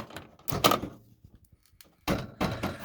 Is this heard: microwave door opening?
yes